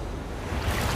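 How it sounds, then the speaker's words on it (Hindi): Large ocean waves surge and break on a jungle beach, a steady broadband wash of surf and wind building slightly louder toward the end, with no talking. "ये आई बड़ी लहर।"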